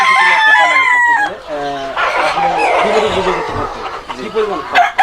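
Fayoumi chickens on a poultry farm: a loud, close rooster crow opens, then a busy chorus of hens clucking continues, with a dog barking briefly and people talking among the birds.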